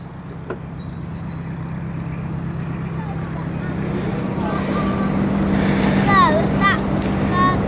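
A narrowboat's engine chugs steadily as it comes along the canal, a low throbbing drone that gradually grows louder and nearer, with wind on the microphone and faint voices in the background.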